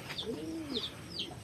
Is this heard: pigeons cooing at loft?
yes